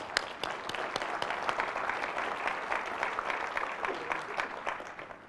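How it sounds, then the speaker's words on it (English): Lively clapping from a medium-sized audience at a sustainability awards ceremony in Indianapolis, crisp individual claps standing out within a steady burst of applause that tapers slightly toward the end. "I'd like to give you guys a round of applause."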